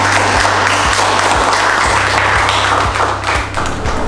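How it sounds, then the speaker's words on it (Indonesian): An audience applauds during a biopharmaceutics lecture, a steady wash of clapping over a regular thumping beat that pulses about twice a second and carries on without pause. "kasih aplaus"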